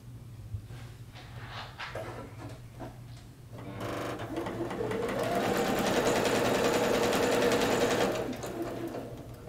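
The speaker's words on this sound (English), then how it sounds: "I'm going to be chain quilting these because it's most time efficient." A home sewing machine chain-piecing star quilt blocks runs in short bursts at first, then settles into a steady, close, continuous whir of stitching that lasts several seconds before stopping.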